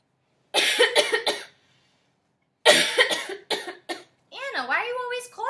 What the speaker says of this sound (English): Anna, why are you always coughing?